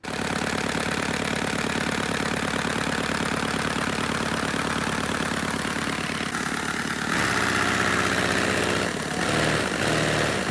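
A small engine runs steadily and close, a constant buzzing drone that shifts pitch slightly toward the end, with no voices over it.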